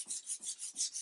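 Sandpaper rasps back and forth over a wooden gun stock being refinished, about five rhythmic, close strokes in quick succession.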